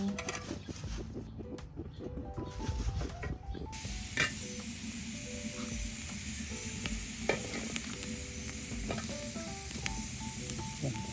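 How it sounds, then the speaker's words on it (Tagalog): Tilapia and vegetables grilling for inihaw na isda at gulay give a continuous crackling sizzle up close, with occasional sharp pops and a brief faint tonal hum in the background, no speech. "Ready na natin itong iihaw."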